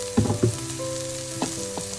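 Ivy gourd stir fry with turmeric sizzling steadily in a pan, with a few louder stirring scrapes near the start and later, no voices.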